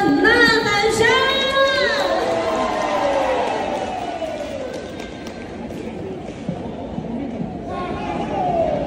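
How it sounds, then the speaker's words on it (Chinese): At a stage performance, an audience breaks into broad applause, cheering and shouting after two contestants finish, a steady crowd wash following a brief amplified voice at the start. "掌声欢呼声，呐喊声"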